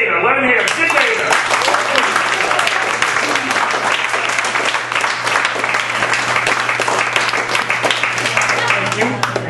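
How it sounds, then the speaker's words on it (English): A stand-up comedy show crowd applauds and cheers for the next comedian, loud dense clapping with voices mixed in, close and sustained over a steady low hum. "Big round of applause everybody for Sid Veda."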